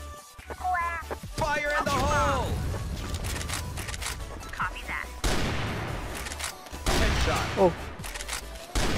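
TRG 21 sniper rifle shots in CrossFire ring out amid a busy firefight, with sharp cracks and scattered bursts of other gunfire, while voices talk over the action.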